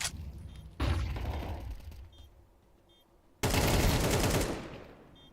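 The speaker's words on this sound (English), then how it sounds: "Flashbang" A flashbang and gunfire in the video game Counter-Strike 2: two loud bursts of noisy, crackling blasts separated by a quieter stretch, with faint beeping tones between them.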